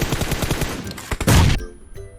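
Gunfire rings out in PUBG Mobile, first a rapid string of sharp shots, then a few spaced single cracks and a loud burst that cuts off abruptly, close and with no talk.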